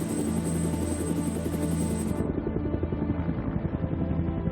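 Helicopter in flight delivering humanitarian aid, a loud steady rotor thump and turbine drone close by, heavy and continuous throughout with no talking.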